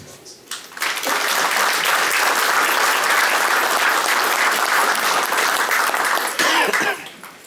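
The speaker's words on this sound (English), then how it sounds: "Please give her a round of applause." Applause from the audience at a Veterans Wall memorial re-dedication at William Tennent High School in Warminster. It starts after a faint cough, then holds steady and full for several seconds before tapering off.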